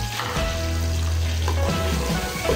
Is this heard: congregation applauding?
no